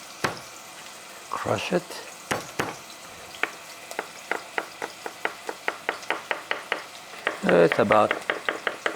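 Chopped onion and a clove of garlic sauté in olive oil, a low sizzle beneath a run of sharp, regular taps from a spoon or knife; someone talks briefly over it.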